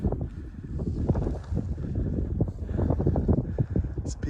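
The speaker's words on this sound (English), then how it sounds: "It's gonna be windy, I apologize." Strong wind buffets the microphone on a summer snow hike in the Snowmass Wilderness mountains, a loud, continuous rumbling roar with gusty surges throughout.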